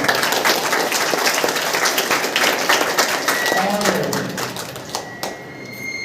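Steady applause from a village crowd welcoming a guest, dense overlapping claps with voices mixed in, fading slightly toward the end.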